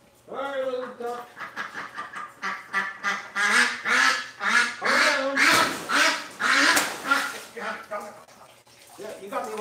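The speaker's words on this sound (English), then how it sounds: "All right, little duck." Duck quacking repeatedly in a rapid run of raspy, nasal calls, close and loud, with splashing water and a person speaking nearby.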